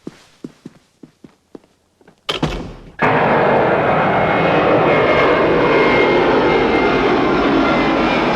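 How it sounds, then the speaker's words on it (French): An airplane arriving from Baghdad international airport in a film scene: a run of light footsteps, a sudden rising whoosh, then a loud, steady engine roar that holds to the end. "L'avion provenant de l'aéroport international de Bagdad vient de se poser."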